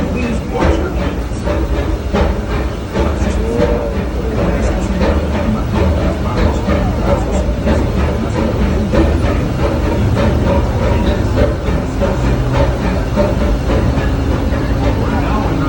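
Disneyland Railroad steam train rolling along the tracks, a steady loud rumble with rhythmic clacking from inside the passenger car, while a voice talks over it.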